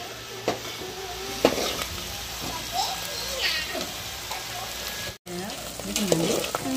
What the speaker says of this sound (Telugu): ఉల్లిపాయ పచ్చిమిర్చి పేస్ట్ అయితే పచ్చి వాసన పోయేంత వరకు ఏం చేసుకోవాలక్క. బాగా వేయించుకోవాలా